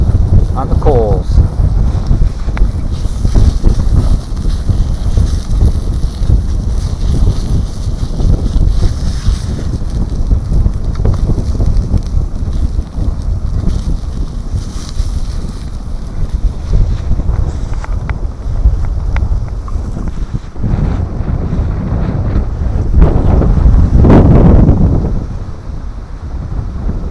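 Strong gusty wind buffets a cold, rainy campsite, a loud continuous roaring rush with surging gusts and heavy rumbling against the microphone, a voice speaking briefly under it.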